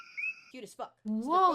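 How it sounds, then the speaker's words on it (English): Male coqui frog calling in Puerto Rico, a clear, bright high-pitched whistled call heard close and alone, followed by a voice talking. "This frog I speak of is the coqui, named after the sounds of the male's calls"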